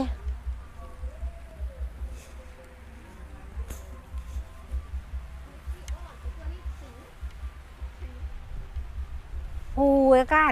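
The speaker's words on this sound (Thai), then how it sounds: "ฝนลงเม็ดแล้ว แล้วเม็ดใหญ่ด้วยนะ" Rain patters steadily in big drops on a nearby surface at a riverside campsite, a soft irregular tapping under quiet background, with a voice at the very end.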